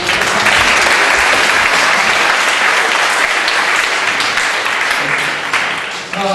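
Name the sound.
applause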